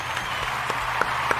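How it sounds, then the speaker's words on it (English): A short canned round-of-applause sound effect plays on a podcast, a brief wash of clapping with a few sharper claps standing out, steady and moderately loud. "So round of applause for him."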